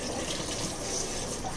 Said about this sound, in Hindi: ये सब्जी मैं धो के रख रही हूँ मैं साथ के साथ